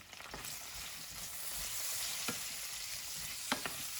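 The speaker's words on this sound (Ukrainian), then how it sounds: "Закидаю сюди всі овочі зразу, щоб вони кілька секунд присмажились в тій ароматній олії." Vegetables tossed into hot aromatic oil sizzle steadily in the pan while a utensil stirs them, with a few sharp scraping clicks over the continuous close frying hiss.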